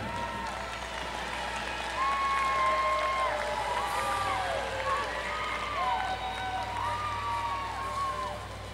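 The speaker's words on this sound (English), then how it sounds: "let's give a big round of applause to the honorable mention" Applause and crowd noise from an audience at a girls' basketball championship awards presentation fill the space with steady clapping, while voices and tonal sounds rise over it.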